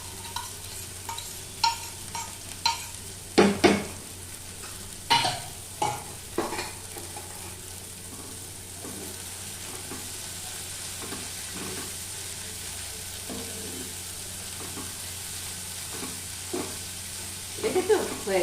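Prawn bhujia with coriander leaves is stirred in a pan, a spoon scraping and knocking in irregular strokes, loud and frequent at first and then sparse, over a faint steady sizzle.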